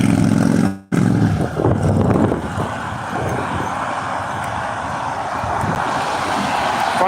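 Loud, steady wind roars and buffets a microphone outdoors in an English city, a continuous rushing blast with no voices, briefly cutting out near the start.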